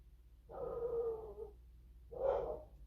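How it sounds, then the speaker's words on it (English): Dogs bark indoors, two separate woofs about a second apart: the first drawn out, the second shorter and sharper, fairly close. "sorry about my dogs, guys."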